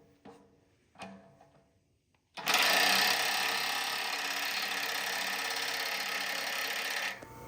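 A larger impact wrench in a workshop during a 1959 Massey Ferguson tractor rebuild: a few sharp clicks and knocks, then a loud, steady, close whirring hammer that runs for about five seconds and cuts off.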